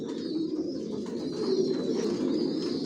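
Pigeons in a loft coo continuously, a low steady murmur of many birds layered together at close range, with faint higher chirps above.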